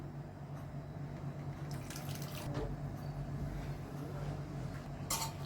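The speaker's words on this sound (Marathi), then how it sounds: "थोडंसं गरम पाणी ओतल्यानंतर मिक्स करून घ्यायचं" Hot water poured into a pan of mixed spice masala for a paneer gravy, a soft steady trickle with faint splashes, quiet and close with no talk.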